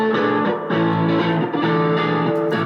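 An electric guitar part recorded in Logic 9, sustained distorted chords with a thick harmonic tone, shifting every half second or so, steady and loud with no talking.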